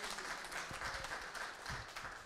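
Congregation in a church applauding a preacher, a brief, fairly soft patter of clapping in a reverberant room.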